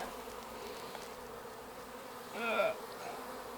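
Honeybees buzz around an urban beehive, a faint steady hum with one bee swelling louder as it passes close for a moment.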